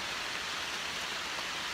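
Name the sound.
rain falling in jungle rainforest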